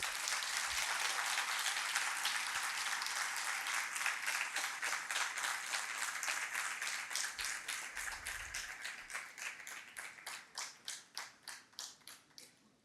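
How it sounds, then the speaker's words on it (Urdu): Conference audience applauding during a session of the Urdu conference, a dense sustained clapping that gradually thins into fewer, distinct individual claps toward the end as it fades out. "آپ سب ان کے لیے دعا گو بھی ہوں، تالیاں بھی بجائیں"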